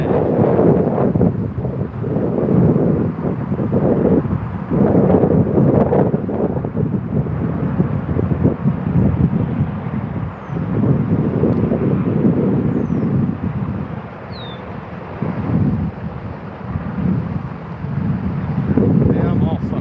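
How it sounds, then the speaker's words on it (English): Strong wind roars steadily across the microphone outdoors, a dense continuous low rumble with gusting surges and no pauses, while a voice talks over it. "that wind is getting bad"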